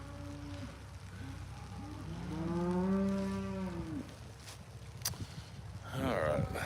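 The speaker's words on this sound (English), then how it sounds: "we've got quite a few cows we need to work" Cattle moo on a snowy Oklahoma farm in the cold. Several drawn-out lowing calls rise and fall over a low rumble of wind, with one long, loud moo in the middle.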